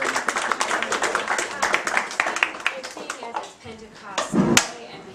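A small gathering in a private house claps for its hosts, a burst of scattered clapping under overlapping chatter and voices, with a few sharper claps near the end.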